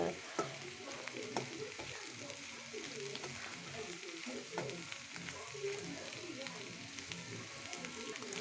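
Bitter gourd curry with chilli powder sizzles and fries steadily in a pan while it is stirred, giving a continuous crackle with occasional scrapes throughout.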